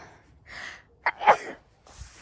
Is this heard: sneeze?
yes